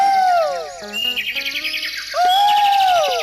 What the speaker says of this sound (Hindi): चिड़िया बोलने लगी, कोयल।